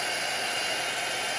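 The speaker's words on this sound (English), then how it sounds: "This is a heat tool." A steady, close blowing roar of a heat tool drying paint, constant and unbroken, with no other sounds.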